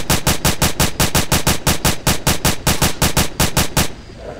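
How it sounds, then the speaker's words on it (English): S.T.A.L.K.E.R. automatic rifle fire rattles out in a fast, evenly spaced string of about twenty loud, close shots before stopping abruptly, leaving faint ambience. "I'm just gonna shoot at it now"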